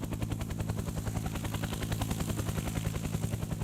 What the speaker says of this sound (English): So Aaron Nicholson and Paul Rogers called up a chopper and flew up the valley towards Mount Aspiring